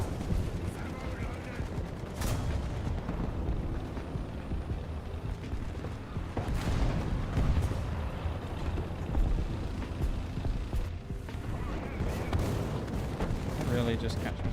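Tank cannon fire and gunfire in a combat video game with a Rooikat armored vehicle, loud repeated sharp blasts and crackling bursts over a dense rumbling battle din across the whole stretch.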